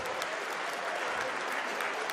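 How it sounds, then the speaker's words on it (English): Warm applause from a live audience at an event in Milton Keynes, a dense, even patter of clapping hands that carries on without a break. "Give yourselves a round of applause for our wonderful live audience."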